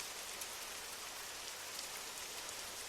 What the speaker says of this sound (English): You feel the heaviness of the evening's rain begin to ease.